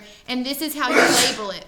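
A single sharp sneeze bursts out right after a brief spoken phrase, close and loud.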